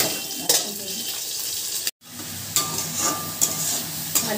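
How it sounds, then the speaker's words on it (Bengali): Eggplant pieces frying in a pan, a steady close sizzle with occasional stirring clinks and one brief cut in the sound. "সবার প্রথমে আমি বেগুনগুলো ভেজে নিই"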